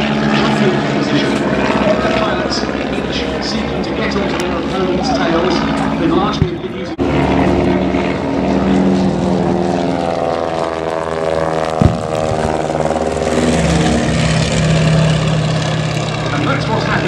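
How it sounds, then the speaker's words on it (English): Piston engines of a WWI Fokker and a Sopwith triplane in a mock dogfight air display, a loud continuous droning roar rising and falling as the aircraft circle, with a commentator talking over it throughout. "And that's what's happening now as the Fokker tries to get onto the tail of the Sopwith triplane."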